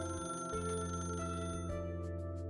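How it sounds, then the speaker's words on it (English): A telephone rings in an Arknights scene, a steady electronic tone sounding alone over the game's background music. "the phone rings."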